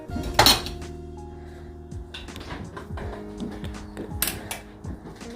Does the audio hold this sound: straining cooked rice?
yes